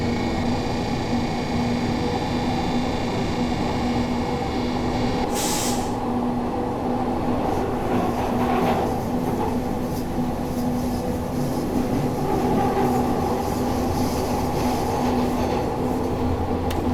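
A Glasgow Subway 1980 Stock train runs in a Thomson Interactive train simulator game, giving a steady, droning rail rumble with a constant motor hum and soft clatter, uniform and unbroken with no voices.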